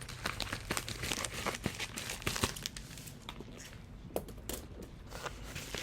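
A blade cuts open a small book mail package, producing close, faint crinkling, tearing and scraping of paper and plastic in irregular bursts, with no talking.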